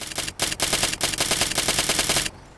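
Rapid bursts of muffled automatic gunfire from a suppressed 9x39 AS Val rifle in Fallout 4, a fast steady rhythm of suppressed shots with brief pauses, ending abruptly.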